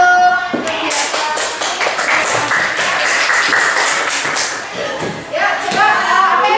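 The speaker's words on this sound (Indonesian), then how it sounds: "tepuk tangan untuk kegiatan" Students in a classroom coding lesson clap their hands in a quick, uneven burst of many overlapping claps, with voices mixed in.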